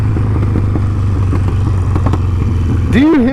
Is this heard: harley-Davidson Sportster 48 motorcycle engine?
yes